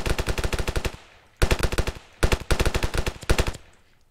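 Automatic gunfire rattles in the video game Ravenfield, with four rapid bursts of loud, close shots separated by short pauses.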